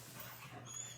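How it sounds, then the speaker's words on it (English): An indoor dog growls at someone outside, a faint, low, continuous rumble lasting about a second with no talking over it. "The dog is growling at the Daisy."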